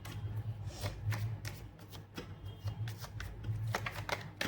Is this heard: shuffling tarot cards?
yes